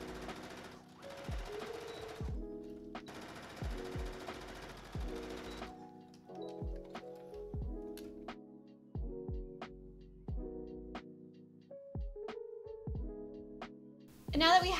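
A sewing machine stitches dress pieces cut from a sheet in short, steady whirring bursts separated by pauses, with soft clicks and thumps of fabric handling between runs, close and fairly quiet.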